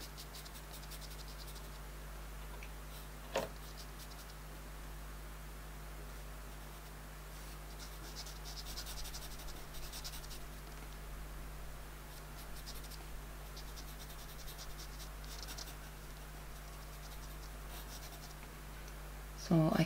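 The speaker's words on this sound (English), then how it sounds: "what can I do now with the pastel pencils to try and sort of shape this a bit better?" Pastel pencils scratching across paper during a drawing of a chaffinch, a faint, close, continuous light scratching with brief louder strokes over a low steady hum.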